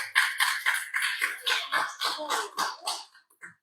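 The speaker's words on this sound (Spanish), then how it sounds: "solicito un fuerte aplauso" Clapping from an audience at a public accountability event comes in a steady, evenly spaced rhythm of distinct claps that thins and fades out toward the end.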